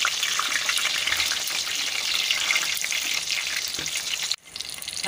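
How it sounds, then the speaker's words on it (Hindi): Battered chili pakoras frying in hot oil over low heat, a dense continuous close sizzle that cuts off sharply near the end and resumes more quietly. "मिर्ची के पकोड़े हमारे सिकना शुरू हो गए हैं।"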